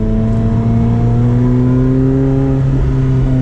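A McLaren 720S Performance Spider's engine revs while driving, a loud, steady, close-up mechanical roar with layered tones that slowly rise in pitch, alone without any talking.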